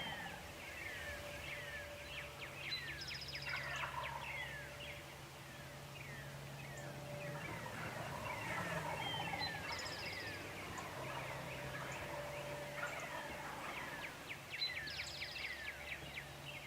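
Wild turkeys gobble repeatedly from the roost beside a field in early turkey season, a faint, distant chorus with overlapping calls rising above a low background hum.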